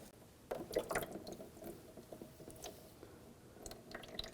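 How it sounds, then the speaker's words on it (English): Engine coolant from a 3.6L 2010-2017 Chevrolet Equinox drains through an opened valve into a drain bucket, giving a soft, steady liquid trickle with faint drips and small mechanical clicks. It is quiet and close, and nobody speaks. "And drain the coolant out into a drain bucket."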